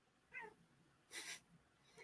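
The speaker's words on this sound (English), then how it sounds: "Is that your cat? That is my cat." A cat meows twice in a quiet indoor room, a short harmonic mew followed by a louder, breathier cry, with faint background hum and no talking.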